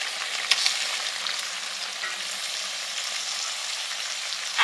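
Fish being added to hot oil for a spicy jhal curry with potatoes and mustard, giving a steady bright sizzle and crackle throughout, with a few sharp pops and a louder spatter at the end.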